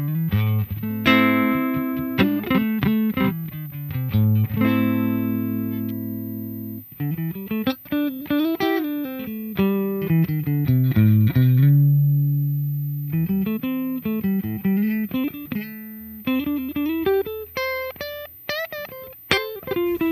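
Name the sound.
clean electric guitar straight into amp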